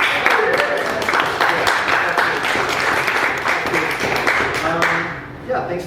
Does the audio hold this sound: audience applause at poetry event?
yes